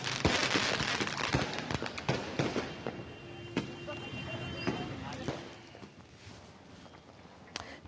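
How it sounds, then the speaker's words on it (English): Firecrackers burst in rapid, irregular cracks during a festive celebration in northeast Assam, sharp loud pops dense at first and thinning toward the end amid crowd noise. "People in northeast Assam celebrated the occasion with bursting firecrackers and lighting lamps."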